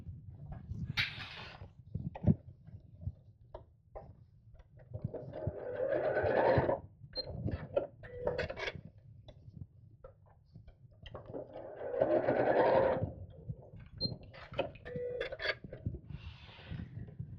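Domestic sewing machine stitching side panels of a fabric craft bag, running in several steady whirring bursts with quieter pauses between, no talk.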